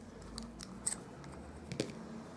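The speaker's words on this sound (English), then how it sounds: "I'll just grab my paper snips." Paper snips cut through ribbon trimmed off the spool during card making, a couple of small, close, quiet crisp snips standing out from a soft background hush.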